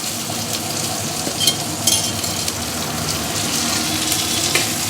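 Ginger-garlic paste and chopped onion fry in a pan over low flame for a fish curry, a dense continuous sizzle with occasional brief crackles and stirring touches, close and fairly loud.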